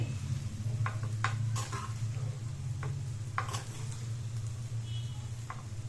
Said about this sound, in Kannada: ಹಾಕೊಂಡು ಚೆನ್ನಾಗಿ ಫ್ರೈ ಮಾಡ್ಕೊಳ್ಳಿ. ಅನ್ನ ಜೊತೆ ಲೋ ಫ್ಲೇಮಲ್ಲಿ ಇಟ್ಕೊಂಡೆ ಮಿಕ್ಸ್ ಮಾಡ್ಕೊಳ್ಳಿ.